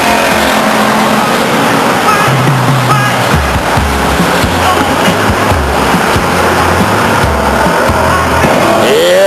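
Race cars lap the oval at Stockton 99 Speedway in 1999, a loud, continuous roar of engines swelling and fading as cars pass, under an announcer's commentary.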